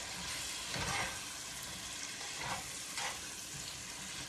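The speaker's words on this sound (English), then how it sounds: "add these apples and I guess gently stir it around" Apple slices fry and sizzle in a pan while being gently stirred, a soft continuous sizzle with a few scraping stir strokes rising briefly above it.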